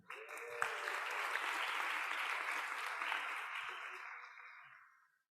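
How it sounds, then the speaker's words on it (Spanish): Church gathering breaking into applause after a prayer, a dense crowd of clapping that swells quickly, holds steady for several seconds, then fades out to silence. "Ahora sí, el aplauso."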